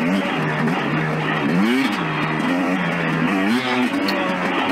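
A 2019 KTM 250xc two-stroke dirt bike engine revs on wet granite trail, its buzzy, raspy note rising and falling in repeated throttle blips, loud and close throughout with no talking.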